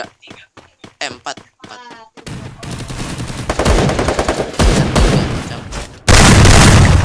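Loud gunfire in a shooter video game: a player talks briefly at first, then dense rapid automatic bursts and booming shots follow, ending in a sharp heavy volley.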